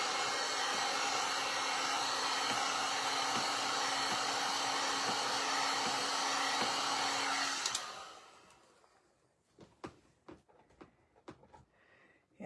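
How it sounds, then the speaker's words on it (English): An industrial heat tool blows hot air steadily over craft paint, a loud constant whooshing drone that cuts off partway through and gives way to quiet handling taps. "So I'm going to hit this with the heat tool, and then I'm going to do a second coat."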